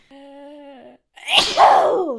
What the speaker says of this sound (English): on the recording, you can see where I've sneezed